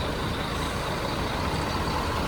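A bus idles with a steady, dense engine rumble and broadband hiss throughout, near and continuous, with no talk; the Grand Purity Euro 5 sits alongside a red Harapan Indah bus at a busy bus stop.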